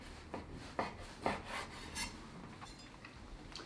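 A knife trims the sides of a sponge cake for lamingtons, giving a few soft, close scraping and rasping strokes at a quiet level.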